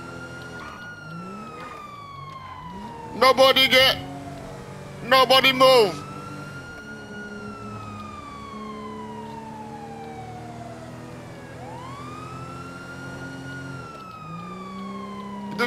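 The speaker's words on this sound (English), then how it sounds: "Put the sirens on." Police sirens in GTA 5 Online wail in long, loud, sweeping rises and falls, steady throughout, while someone shouts briefly over them.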